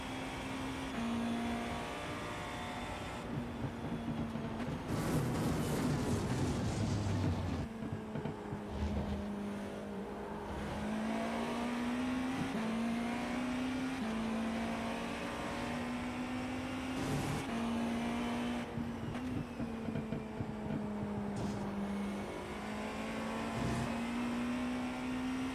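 Race car engines on a straight at Le Mans in a racing game, a loud steady high-revving engine drone with gear shifts and a rival car roaring past, sustained throughout.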